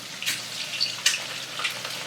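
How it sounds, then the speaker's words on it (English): French fries frying in vegetable oil in a home kitchen, giving a steady bright sizzle with small crackling pops and a few louder spits, heard up close with no talking. "It's just veggie oil and we're frying them up."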